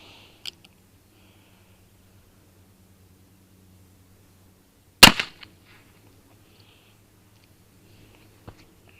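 Uberti 1849 Pocket revolver fired outdoors: one loud sharp report near the middle, with a few faint clicks and small pops before and after, over a low steady background hum.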